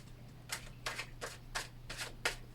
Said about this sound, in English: we're gonna take the tarot card, and I need to shuffle them a little bit